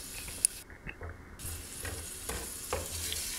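Meat and onions fry in oil in a pot on a gas stove, a low bubbling sizzle with a few stirring scrapes and clinks, quiet and close, no voices.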